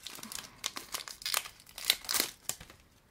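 Crinkly Pokémon card booster pack wrapper being torn and crumpled open, a close series of sharp crackling rips with brief pauses between them.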